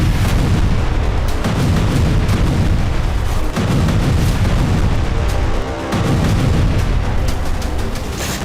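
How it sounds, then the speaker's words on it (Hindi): Bombs exploding over a refugee camp in Gaza at night, a continuous loud rumble of heavy booms and blasts rolling one into another, with no voices. "जिस जगह से तेज आवाज के साथ रोशनी दिख रही है उस जगह गाजा शरणार्थियों का कैंप है, जहां सोते हुए लोगों पर बम गिराए गए।"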